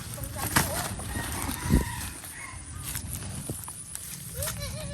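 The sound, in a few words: chickens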